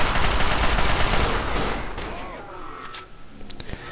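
A sentry bot in Fallout 3 unloads machine gun fire, a loud, dense rattle of rapid shots that fades over the first few seconds and is followed by scattered impacts.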